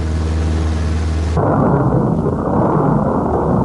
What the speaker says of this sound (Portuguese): Um avião americano joga a bomba sobre a cidade de Hiroshima.